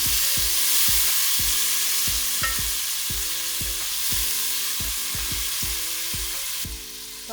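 Browned onions and tomatoes fry in a pan, giving a loud, steady sizzle up close, with a spoon scraping the pan in repeated short strokes throughout.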